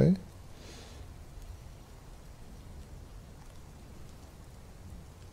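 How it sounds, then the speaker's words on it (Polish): Dwarf Fortress thunderstorm: steady rain hisses throughout at a moderate level, with a brief sharp burst at the start. There is no distinct thunder clap. "Co to za burza? Padał deszcz."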